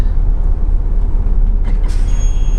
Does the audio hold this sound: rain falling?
no